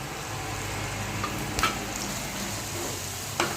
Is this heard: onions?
yes